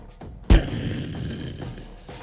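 A sealed soda can's top bursts off inside an office refrigerator with a single sharp, loud bang, followed by a lingering rattly, noisy decay.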